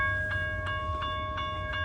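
A train passes the railroad crossing at Old Nicholson Road, its horn holding a sustained chord close by while wheels beat out a regular rhythmic clatter underneath.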